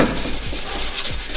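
Rubbing or sanding on a Yamaha 125 YZ motorcycle part during swingarm bearing replacement, a close, loud, continuous abrasive scrubbing with a few rhythmic back-and-forth strokes.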